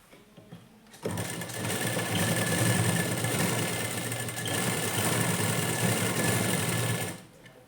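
A sewing machine stitches a blouse lining in a fast, steady mechanical whir that starts abruptly, runs evenly for about six seconds at close range, and then stops.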